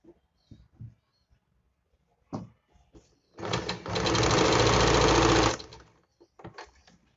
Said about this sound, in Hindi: इस गैप में सिलाई लगाकर इसको बंद कर लेंगे।